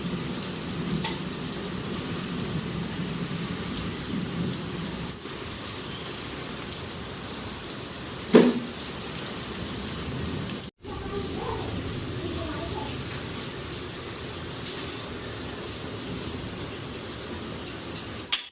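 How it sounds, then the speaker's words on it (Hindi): Heavy rain pours down in Delhi in a loud, steady, continuous wash of water, broken by one brief knock midway and a short gap. "और देखा आप लोगों ने कितनी तेज़ बारिश है।"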